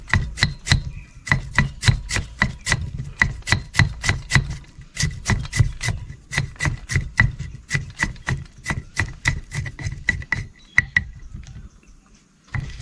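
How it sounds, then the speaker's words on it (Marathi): Cabbage being finely chopped with a knife for street-style Chinese bhel: rapid, steady, evenly spaced blade strikes on a board, close and crisp, continuing without pause until a brief stop near the end. "हे बघा बारीक कोबी कापून घ्यायचा, बारीक एकदम बारीक कोबी कापून घेतलाय।"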